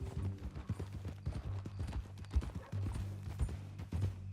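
Horse hooves in Red Dead Redemption 2 clip-clop at a steady walking rhythm, close and clear, over a low sustained background hum.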